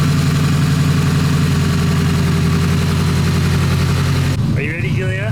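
A Nissan S14 Silvia with a bigger turbo and Greddy manifold idling loudly, a steady deep burbling exhaust drone close by, with a voice speaking briefly near the end over the engine.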